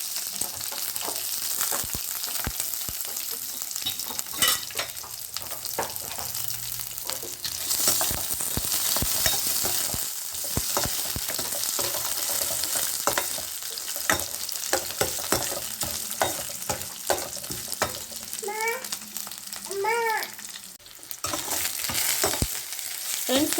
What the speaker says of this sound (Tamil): அப்புறமா வெங்காயம், சின்ன வெங்காயம் எடுத்து போட்டுக்குவோம். கூடவே பச்சை மிளகாய் சேர்த்துக்கலாம்.